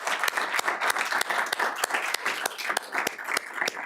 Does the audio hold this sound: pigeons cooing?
no